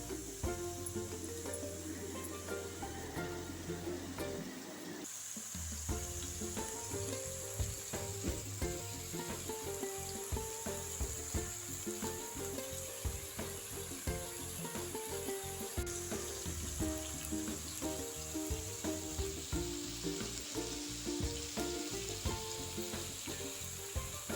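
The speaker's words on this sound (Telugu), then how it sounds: "ఇది ఒక రెండు నిమిషాలు ఫ్రై చేద్దాం" Mixed vegetables for a home-style curry fry steadily in a pan, a dense continuous sizzle with occasional stirring scrapes, close and loud throughout with a brief dip near five seconds.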